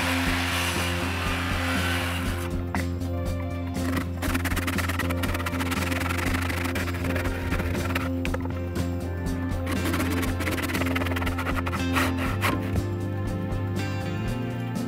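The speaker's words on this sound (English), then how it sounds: "this will need to be sawn out with a handsaw or alternatively a reciprocating saw" A wooden post tenon being sawn out, a continuous rough rasping cut with a steady motor-like hum beneath, loud and close with no talking.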